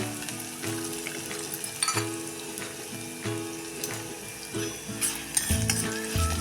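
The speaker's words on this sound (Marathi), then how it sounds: "उडदाची डाळ आपण ही थोडीशी लालसर होईपर्यंत परतून घेऊया" Urad dal frying in oil for a dosa-centre style potato bhaji, a soft crackling sizzle with intermittent stirring scrapes and clinks at a moderate, close level, no talking.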